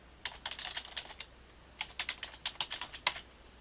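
Computer keyboard typing a web address, heard as two short bursts of soft, rapid keystrokes with a brief gap between them. The taps are faint and close, with no talking.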